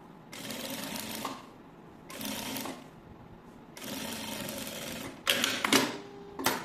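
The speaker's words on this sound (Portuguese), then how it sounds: "agora nós vamos costurar o nosso forro" A sewing machine stitches fabric lining for a small zippered cosmetic case in several separate bursts of rapid mechanical whirring, each a second or two long with short pauses between, close and clear with no talk.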